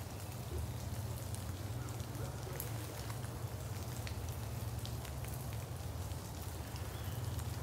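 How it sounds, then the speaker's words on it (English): Rainwater drips and patters steadily in Georgia woods after rain, a soft continuous spatter of droplets over a low rumbling background. "Rain finally moved out. Everything's dripping."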